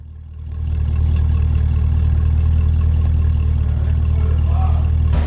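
A 2023 Cadillac CT5-V Blackwing with a bi-mode Corsa exhaust idles with a deep, steady exhaust rumble that swells up at the start and holds at a constant drone.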